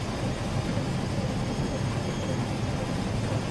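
Loud, steady roar of a jet airplane engine as it descends to land, broad and rumbling, continuous with no voices.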